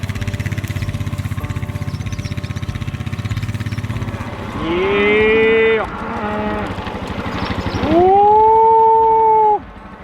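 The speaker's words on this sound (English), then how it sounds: "he was moving the cattle to the next pasture" Cattle being moved to the next pasture let out two loud, drawn-out moos close by, the second longer and rising, over a low rhythmic motorcycle-like engine putter.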